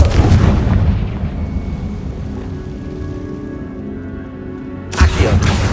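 The Bombarda explosion spell goes off in Hogwarts Legacy with a loud, close, deep boom that rumbles and fades over several seconds, then a second heavy blast follows near the end.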